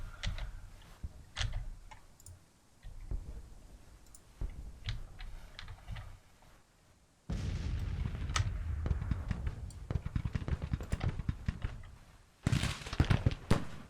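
Napoleon cannons fire in a Civil War battle in the game Grand Tactician, heard as scattered sharp cracks and booms over a rumbling battlefield bed that swells louder in the second half.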